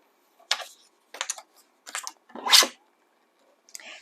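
Scissors cutting 6x6 patterned paper to make junk journal pocket tags, heard as five short crisp snipping bursts spaced about a second apart, close up with quiet gaps between.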